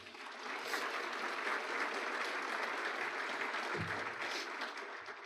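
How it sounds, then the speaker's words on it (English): A luncheon audience at a chamber of commerce event applauds city leaders, a sustained, even roar of many hands clapping, heard from a distance and fairly soft, with faint voices beneath. "A big round of applause for our city leaders."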